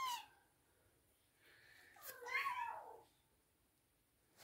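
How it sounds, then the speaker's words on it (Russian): An adult house cat growls and hisses jealously at small rescued kittens indoors, with a short hiss at the start followed by a faint, drawn-out, whining growl. "вот кот наш ревнует, ругается"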